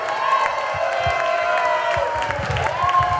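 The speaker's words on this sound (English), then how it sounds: "I want to hear some loud noise and clapping" A crowd at a Roger Stone appearance at Seed to Table Market claps and cheers steadily for the whole stretch, a dense wash of applause and whoops over a sustained tonal hum.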